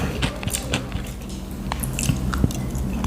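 Close-miked biting and chewing of food for an eating show, with wet squishy mastication and a few sharper crunchy bites spread irregularly over a few seconds, no talking.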